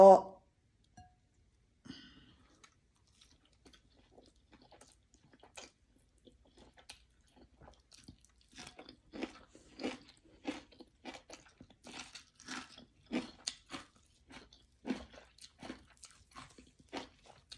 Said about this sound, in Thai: มาได้กินข้าว